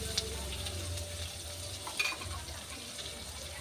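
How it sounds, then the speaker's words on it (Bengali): Leafy greens sizzle faintly and steadily as they stir-fry in a pan, with a couple of soft stirring clinks partway through. "আমি শাক ভাজাটা একটু ঝাল ঝাল করেই করবো"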